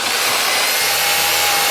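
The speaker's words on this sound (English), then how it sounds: "You're going to need an 1 1/8" diameter drill bit on a hammer drill." A hammer drill with a 1 1/8-inch bit boring through brick veneer, a loud steady grinding roar held close and unbroken, alone without speech.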